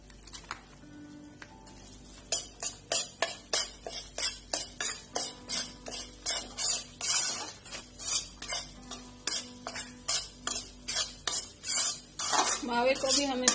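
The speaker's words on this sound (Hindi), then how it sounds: "मावे को भी हमें 5 मिनट तक सेक लेना है।" Mawa being stirred and roasted in ghee in a pan for Bikaner-style gaal ladoo, with a steady run of rhythmic metal spoon scrapes against the pan, close and fairly loud, over a faint sizzle.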